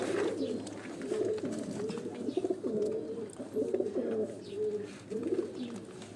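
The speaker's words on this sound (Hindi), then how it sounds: "अब ये वो काले मुंह वाले कबूतर" Black-faced breeder pigeons coo repeatedly on a rooftop loft, their low rolling calls following one after another in a steady series, fairly close.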